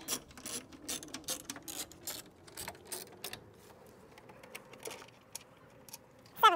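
A hand ratchet backing screws out of a Dorch 2.5 high-pressure fuel pump during installation: quick, light clicking runs in several close bursts, with quieter gaps and a sharper metallic sound at the end.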